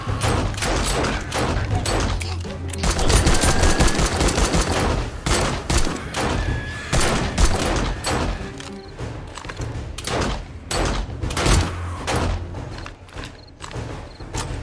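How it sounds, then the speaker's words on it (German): Rifle gunfire in the survival video game 7 Days to Die, fought during a blood moon: dense bursts of loud, sharp shots and thuds fire in rapid clusters across the whole stretch. "ich habe jetzt die letzten 10 Schuss mit dem Gewehr"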